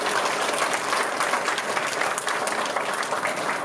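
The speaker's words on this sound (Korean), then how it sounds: "여러분도 같은 의견이시라면 뜨거운 박수로 축하를 해주시면" Steady, dense applause from a seated audience at an inauguration ceremony for a new director at a Seoul welfare centre for people with disabilities, continuous and full for the whole stretch with no talking.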